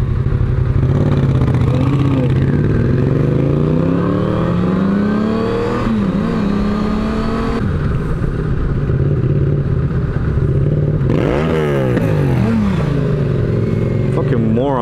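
Motorcycle engine revving and pulling through the gears on an open road ride, loud and continuous with rising pitch sweeps, wind roar throughout and occasional voices talking over it.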